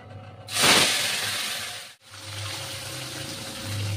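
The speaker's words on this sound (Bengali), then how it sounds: "তেল গরম হয়ে গেছে, এবার মাছগুলো আমি ছাড়ব" Small chuno fish dropped into hot oil burst into a loud sizzling hiss that swells quickly, then settles into a steady crackling fry after a brief break.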